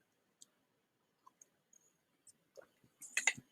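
Sparse, faint computer mouse clicks in a quiet room, a few isolated taps followed by a short cluster of louder clicking at the end.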